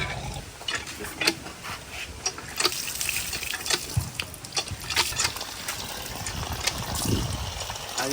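Water gushes from a hand pump tap in bursts as the metal handle clanks and ratchets rhythmically, close and fairly loud with splashing between strokes.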